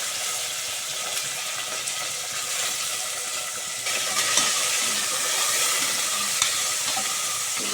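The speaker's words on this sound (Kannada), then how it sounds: "ಈರುಳ್ಳಿ ಕರಿಬೇವು ಹಸಿಮೆಣಸಿನಕಾಯಿ ಸ್ವಲ್ಪ ಫ್ರೈ ಮಾಡ್ಕೊಳ್ಬೇಕು ಚೆನ್ನಾಗಿ" Onion, curry leaves and green chillies fry in hot oil with mustard seeds and garlic for a drumstick and brinjal masala sambar, a steady loud sizzle with light stirring that grows slightly louder midway, with no voices.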